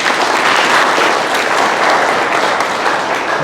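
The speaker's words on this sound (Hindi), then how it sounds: "आप लोग अपने आप के लिए जोरदार ताली मारेंगे" A crowd at a rural farmers' gathering claps loudly and steadily in a dense, continuous wash of applause, close and sustained throughout.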